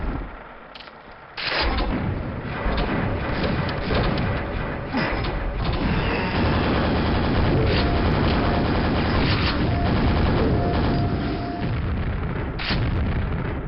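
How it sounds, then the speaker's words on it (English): Grenades are thrown and explode in the video game Quake, with loud, dense booms and blasts layered over continuous game sound throughout. "I'm going to chuck a few grenades up there preemptively"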